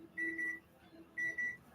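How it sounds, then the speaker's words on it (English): Microwave oven beeping in a kitchen, two short bursts of steady electronic tones about a second apart, fairly quiet with faint room noise between them. "Is that microwave?"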